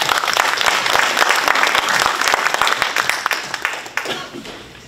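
Loud, dense applause from a banquet audience at a Korean-American community sports association fundraising night, sustained clapping that fades toward the end.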